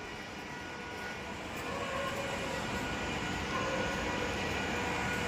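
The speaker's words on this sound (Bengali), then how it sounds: "দেখো এখানে একটা ট্রেন দাঁড়িয়ে আছে" A constant low rumble of a train standing at Sealdah station in Kolkata, with broad hissing machinery noise that swells slightly partway through.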